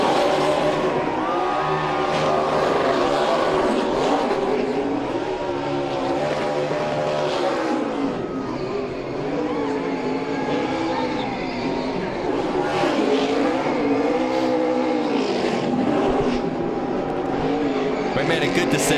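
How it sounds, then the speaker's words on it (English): A NASCAR Xfinity Series race car does a burnout at the LTi Printing 250, its engine roaring loud and continuous with a droning, wavering tone throughout, and commentators talking over it. "Made a good decision by doing a burnout"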